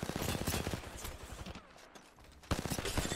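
Light machine gun fire in a video game, loud short bursts separated by a pause in the middle, close to the listener.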